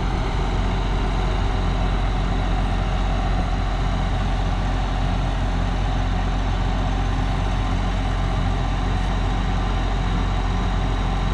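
A tractor's diesel engine idles steadily and loudly at close range, a continuous low rumble with an even mechanical throb that holds unchanged throughout, with no talking.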